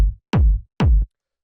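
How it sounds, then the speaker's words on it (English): A punchy, low-mid heavy techno kick drum sample strikes three times in isolation, each hit a sharp attack followed by a short booming decay, with silence between hits. "So then the next thing we have here is the kick"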